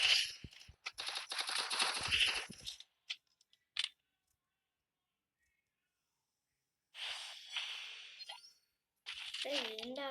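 Rapid bursts of video game gunfire crackle in a dense volley, then a few isolated shots follow. After a long silence comes another burst of firing, with a brief voice at the end.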